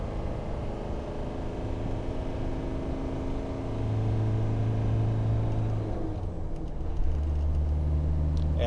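A D90 climbs a steep hill in third gear, its engine a steady low rumble with constant road and cabin noise throughout and a deeper drone swelling midway, no one talking.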